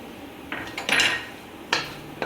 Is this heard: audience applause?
no